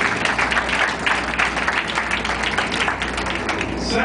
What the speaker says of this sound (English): Actually, you can clap for that.